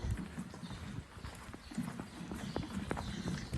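A Dutch harness horse walks, its hooves giving a steady, soft clip-clop rhythm that is moderately close, with faint background noise.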